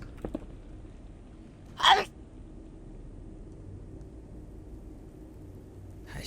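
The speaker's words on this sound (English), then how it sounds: "I have to sneeze." A single person's sharp, explosive sneeze in the middle of otherwise quiet room noise, preceded by a faint inhale, with a brief soft sound near the end.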